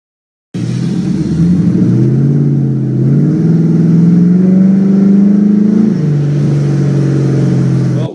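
A Ford Mustang GT drives slowly at about 20 mph on a 35 mph road, its engine a loud, steady low rumble that rises and falls in pitch, with a clear shift in tone near the end before it settles.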